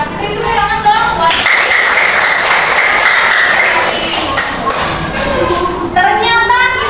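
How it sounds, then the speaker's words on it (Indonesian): Classroom audience applause breaks out after a short voice, a dense wash of clapping hands that holds for a few seconds, then fades as speech returns. "Beri tepuk tangan dong buat."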